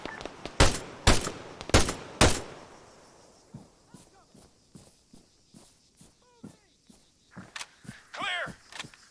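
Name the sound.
gunfire in the video game Arma 3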